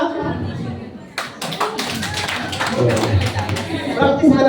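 A group at a coaching session in Dasmariñas claps on cue, giving a scattered cluster of sharp claps rather than one clean unison hit, with voices talking around and over them.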